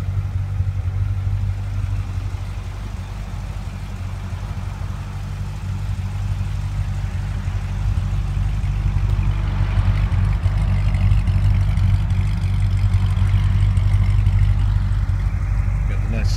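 A yellow Chevrolet Corvette with a Z06 engine idles with a steady, deep low rumble that grows slightly louder and rougher toward the end.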